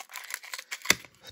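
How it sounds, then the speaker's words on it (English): Scissors snip open a sports trading card pack close up, with light clicks and crinkling of the wrapper and one sharp cut near the end. "All right, let's use some scissors."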